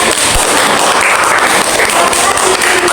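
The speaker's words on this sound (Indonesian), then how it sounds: "untuk kelompok 3 berikan aplaus yang meriah" A classroom audience gives group 3 loud, sustained applause, dense and continuous clapping that fills the whole stretch at close range.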